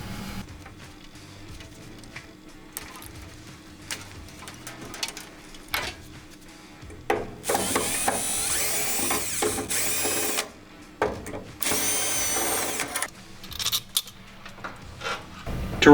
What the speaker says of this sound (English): remove the 4 screws